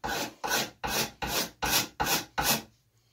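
A knife with a scraper edge is pulled along a wooden axe handle, shaving it smooth. Seven crisp, evenly spaced scraping strokes sound close up, then stop, with no voices.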